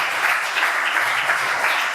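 Audience at a blockchain network anniversary meet-up applauding a presenter, a steady, loud spread of many hands clapping that continues evenly without any speech.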